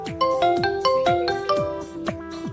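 Repeating electronic phone ringtone, a bright melodic chime pattern cycling about five times in quick succession, fairly loud and alone without talk.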